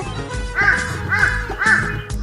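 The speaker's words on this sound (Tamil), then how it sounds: "அட இங்க ஒரு காக்கா இருக்கு" A crow caws three times in an even rhythm, loud and close, each harsh call rising and falling.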